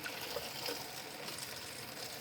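Kangen water pouring into a container at home, a steady close trickle and gush of liquid running without a break, fairly quiet and with no voices over it.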